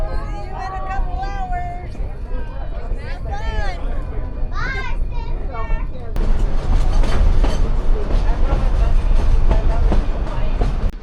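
Passenger train ride, a steady rumble and rattle of the carriage underneath children's and adults' chatter, growing louder and rougher partway through.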